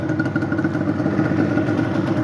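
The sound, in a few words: Yamaha Banshee ATV engine running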